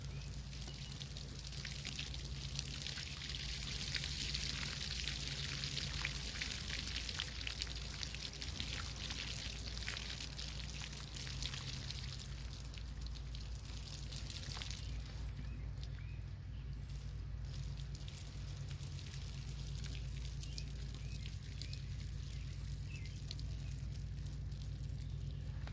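Water pours off sand in a fish tank in a long, continuous splashing trickle, fairly faint and steady, easing slightly about two thirds through.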